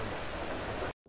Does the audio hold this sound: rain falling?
yes